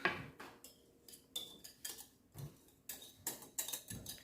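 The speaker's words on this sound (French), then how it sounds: "je racle bien avec le fouet" A whisk scrapes and taps around a bowl of yogurt batter in quick repeated strokes, each stroke a brief scratchy rasp, with no one talking.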